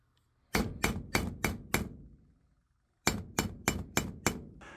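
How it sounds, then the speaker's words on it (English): Two quick bursts of five sharp metallic ball peen hammer strikes flattening copper rivets on a leather wallet, evenly spaced and close, separated by a brief pause, with no voices. "I'm pounding the copper rivets flat using a ball peen hammer"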